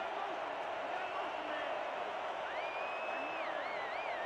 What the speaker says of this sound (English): Evo 9X Stadium crowd getting loud behind their Portland defense